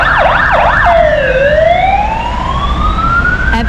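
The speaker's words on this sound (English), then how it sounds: "There goes an ambulance." An ambulance siren passes along a city street in Hong Kong, loud and near, switching from a fast yelp to a long rising and falling wail over steady traffic rumble.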